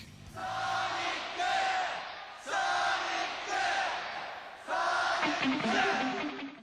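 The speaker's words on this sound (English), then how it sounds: "It's a bunch of Sonic fans in real life cheering for Sonic." A large crowd of Sonic fans cheers and chants in three loud, sustained surges, with shouted voices blending into a dense roar.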